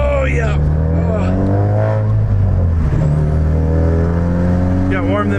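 A Ford Focus RS accelerating hard to warm its tires, loud engine revs rising in pitch through several gears, heard from inside the car with voices talking over it.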